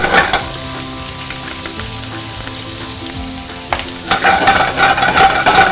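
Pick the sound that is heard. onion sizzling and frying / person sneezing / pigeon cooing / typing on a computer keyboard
onion sizzling and frying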